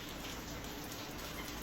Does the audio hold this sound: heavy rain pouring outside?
yes